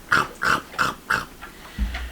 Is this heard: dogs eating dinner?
yes